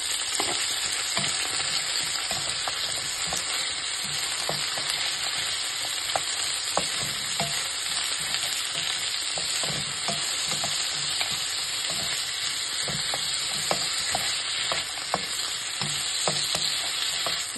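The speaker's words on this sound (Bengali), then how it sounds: "সবকিছুটাকে ভালো করে ভাজা করে নেব।" Vegetables and frozen beans sizzle in a hot pan while being stirred, a steady loud frying hiss broken by frequent scraping clicks of the spoon, with no voices.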